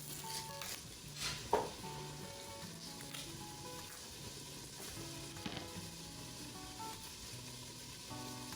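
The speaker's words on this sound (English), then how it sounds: "Not sure if you can hear that bacon cooking. Already it's starting to sizzle." Bacon sizzles steadily in a pan, a soft, continuous crackling hiss with a few sharper pops, quiet and close.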